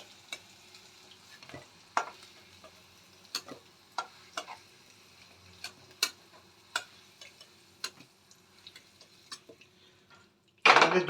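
Potato pieces fry in oil in a pan until reddish-brown. Faint sparse pops and sharp crackles come every second or so over a quiet background, then a louder burst of sizzling at the very end.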